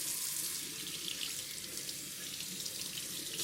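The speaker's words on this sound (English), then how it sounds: "we washed the corned beef brisket to remove the excess salt." Tap water runs steadily into a sink as a corned beef brisket is rinsed to wash off excess salt, a continuous close splashing hiss with no voices.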